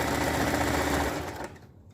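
A sewing machine stitches a seam through stretchy jersey fabric on a leotard, a fast, steady close whir that runs loud and continuous, then slows and stops near the end.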